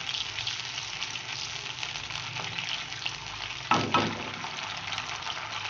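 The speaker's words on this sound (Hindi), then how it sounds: "लहसुन अदरक को मैंने इतना भूना कि इसमें कच्चेपन की जो एक स्मेल आती है वो ख़त्म हो जाए" Garlic and ginger frying in oil in a pan, a steady close sizzle throughout with a brief louder stir or shuffle near the end, no talk.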